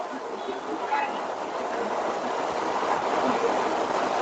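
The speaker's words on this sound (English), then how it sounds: "I think that was the train." A train rumbles past nearby in New York City, a steady broadband roar that holds level for the whole stretch, with a faint voice or two underneath.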